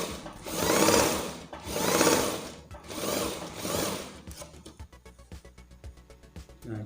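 A sewing machine stitches tulle net ruffle trim in four bursts that swell and fade, followed by quieter clicking and handling sounds, with no voices.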